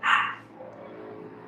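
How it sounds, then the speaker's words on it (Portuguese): A neighbour's two dogs bark from next door behind a wall, one loud burst at the start and another beginning at the end, with a quiet indoor hum between. "tem um vizinho aqui do lado, ele tem 2 cachorras."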